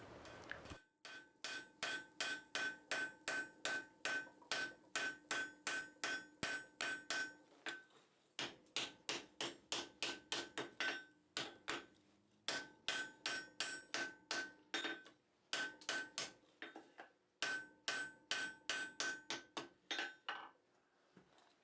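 Blacksmith hammer blows ringing on hot steel at the anvil while forge-welding a hinge barrel, rapid rhythmic strikes in bursts of several with short pauses between heats, loud and close.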